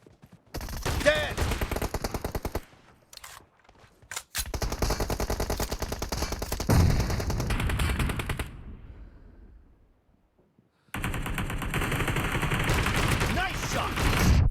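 Gunfire in PUBG Mobile team deathmatch, with loud rapid bursts of automatic and shotgun fire broken by silent gaps, the shots close and punchy, ending in a sustained volley.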